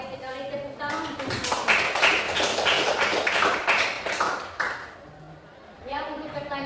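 Students in a classroom clap for a classmate's answer: a burst of rapid close handclaps lasting several seconds, then fading, with voices heard before and after.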